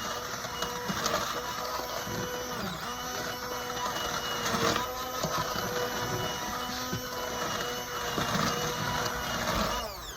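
A blender purees a sauce for pork tenderloin, a steady loud motor whir with a grinding edge that runs unbroken from start to finish.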